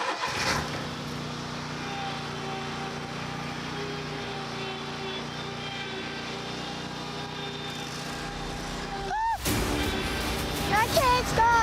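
Tractor engines droning steadily during a tractor race, a low idling hum with tonal harmonics under loud talking and shouting, with a burst of commotion and higher whining near the end.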